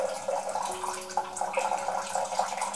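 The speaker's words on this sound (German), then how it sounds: "Und die Pumpe einstecken und dann startet das Entkalken" An ionizer's pump circulates water during descaling, a steady gurgling, bubbling flow with small splashes, close and moderately loud, with no talk.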